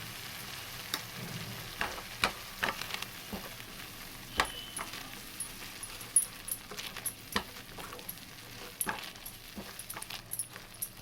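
Turmeric, fennel and clove powder roasting in ghee give a soft, faint sizzle under repeated light taps and scrapes of a spoon stirring the pan, close and quiet with no voices.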